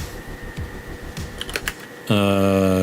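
Computer keyboard typing: quick, close key clicks for about two seconds, then a sustained tonal sound takes over.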